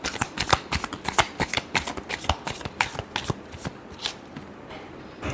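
Tarot cards being shuffled by hand, a steady series of crisp riffling flicks and slaps close to the microphone, fairly quick and regular, with no talking.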